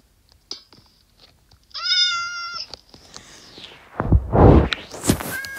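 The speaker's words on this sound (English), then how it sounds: "One cat, two cat, three cat." Several cats in the video game Minecraft meow in short bursts, with one longer, clear harmonic mew in the middle followed by a louder rustling scuffle, close and without talk.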